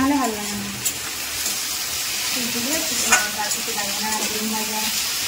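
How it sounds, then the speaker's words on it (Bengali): Onions fry in hot oil until they turn red, a continuous sizzle with scraping stirring strokes, while a person talks over the cooking. "পেঁয়াজটা লাল লাল করে ভাজা হয়ে গেছে।"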